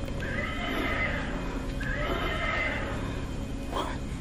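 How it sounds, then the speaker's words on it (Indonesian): A horse neighs in long, drawn-out whinnies, two clear calls and a shorter third, over a steady noisy background with voices faintly present. "Suara kuda."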